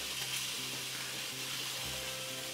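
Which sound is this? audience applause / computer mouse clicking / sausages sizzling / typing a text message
sausages sizzling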